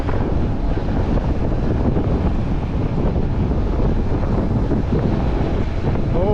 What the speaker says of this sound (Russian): Прям встречный ветер.